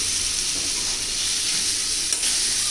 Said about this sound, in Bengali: তো এইখানে সে মাছ রান্না করছে